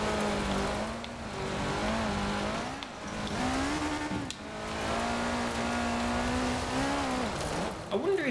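Car engine in the racing video game K74 Rivals, a continuous strained tonal whine that rises and dips steadily throughout, with brief drops around the three- and four-second marks.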